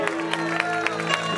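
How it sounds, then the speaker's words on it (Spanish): Applause from a church congregation during an evangelical service, a dense, steady wash of many hands clapping at moderate volume with a sustained musical tone underneath. "amado hermano, fuerte aplauso"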